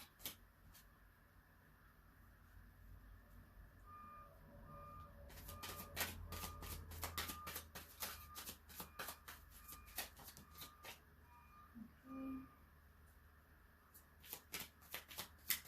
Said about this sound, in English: I do like shuffling on camera just so that you can feel more comfortable seeing and knowing that I'm not cherry picking my cards.